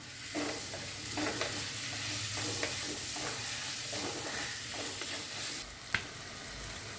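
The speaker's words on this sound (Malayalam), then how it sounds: "ഇങ്ങനെ ടൊമാറ്റോ ഇട്ട് കൊടുക്കാം. അത് നല്ലതുപോലെ വഴറ്റണം." Chopped tomatoes sauté in a pan for a spicy prawn curry, a steady broadband sizzle with occasional scraping stirs and one sharp clink near the end, close and continuous with no talk.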